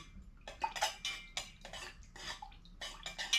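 Candle wax being stirred after white pigment with a hint of brown colorant was added, a run of close scraping and clinking strokes against the container in an uneven rhythm, with no talk.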